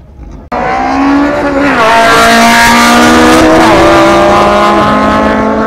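A race car launches in a quarter-mile drag race at the Kaniów airfield, with a sudden loud engine roar climbing steeply in pitch through its gears, close and dominant.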